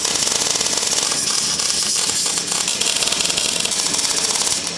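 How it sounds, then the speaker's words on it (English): Welding a temporary member underneath a car during a Barra engine swap, a continuous loud crackling buzz with a steady rhythmic texture that runs without a break, close to the microphone. "we're just welding a temporary member under here"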